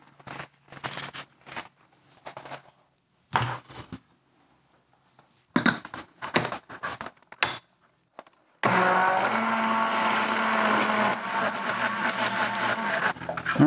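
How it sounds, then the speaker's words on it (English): Ceramic glaze powders are blended in a loud, continuous motor whir during the last five seconds. Before that come intermittent clatters and handling noises with pauses. "Now I'm going to blend these up really well."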